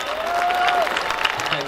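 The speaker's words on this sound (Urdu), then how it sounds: "آپ کا بہت چہیتا شاعر عالم نظامی صاحب، زوردار تالیوں سے استقبال کریں۔" A mushaira audience welcomes a poet with applause, a short burst of dense clapping mixed with a voice speaking over it.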